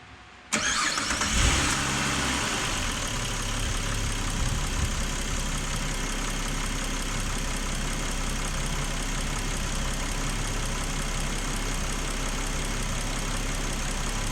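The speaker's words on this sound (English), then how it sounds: "So what I'll do now is just give the car a quick start" A Ford FG Falcon cranks briefly and fires up, then settles into a steady, close idle that carries on evenly without speech.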